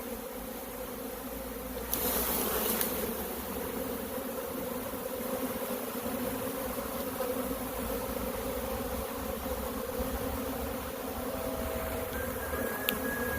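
A heavy swarm of honey bees buzzes continuously and densely close by, a thick steady hum with brief louder rustles as the cluster is shaken from a tree limb.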